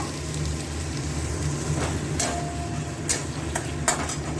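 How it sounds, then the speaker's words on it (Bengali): Boiled chickpeas go into hot oil with ginger and green chilies, giving a steady broad sizzle with a few sharp clinks of a spoon against the pan partway through. "আদা আর কাঁচা লঙ্কাটা একটু কাঁচা ভাবটা যাক, তারপরে দিয়ে দেবো ছোলাটা সিদ্ধ করে রেখেছি।"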